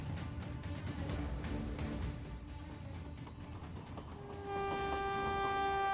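A train rumbles along in a steady, loud rolling clatter, then a long sustained horn blares over the final seconds.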